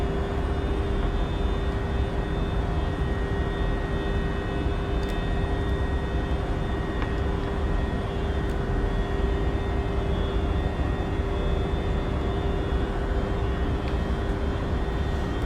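A FlightSimStudio E190 Freighter jet cruises in a flight simulator, a loud, unbroken engine roar with a steady whine that holds even throughout.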